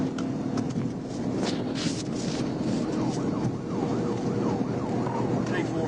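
A police car siren wails continuously during a highway pursuit near an exit overpass, its rising and falling tone sweeping over steady road and wind rumble, fairly loud and close throughout.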